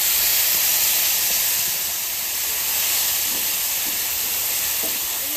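Cumin, bay leaf, onion, ginger and garlic paste hit hot oil in a pan, giving a loud, steady hiss that holds evenly and very close throughout.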